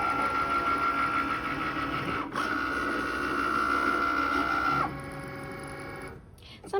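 A Cricut machine cuts labels from A4 paper with a steady, close whirring motor hum and buzzing carriage. The hum shifts pitch partway through, then settles into a quieter drone before a brief clatter at the end.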